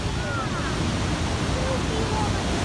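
A waterfall roars in a steady, broad wash of falling water, continuous and fairly loud, with faint voices drifting in beneath the rush.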